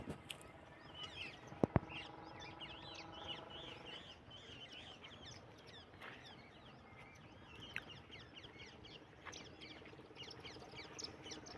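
Small birds perched nearby give faint, scattered chirps and tweets over a soft outdoor background hiss, with a few brief louder notes early on.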